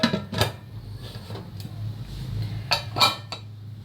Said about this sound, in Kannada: ಕುಕ್ಕರ್ ಮುಚ್ಚಿಬಿಡ್ತೀನಿ